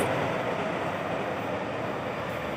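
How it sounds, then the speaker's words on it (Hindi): A SkyTrain passes near Metrotown station, giving a steady, loud, broadband rumble and rush that holds evenly throughout with no voices. "स्काई ट्रेन जा रही है वहाँ से।"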